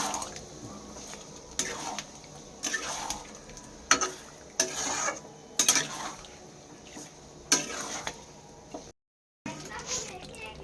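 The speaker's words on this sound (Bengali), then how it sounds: "এই যে আলুটা অ্যাড করা হচ্ছে এবার গ্রেভিটার মধ্যে, একটু ভালো করে এবার এটাকে মাখিয়ে নেওয়া হবে" Boiled potatoes being stirred and mixed into a yogurt gravy for Kashmiri aloo dum: a series of scraping, clinking strokes of a spoon against the pot, close and moderately loud, with a short break near the end.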